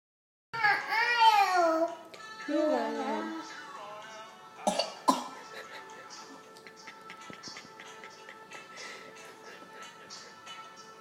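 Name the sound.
child coughing with a phlegmy cough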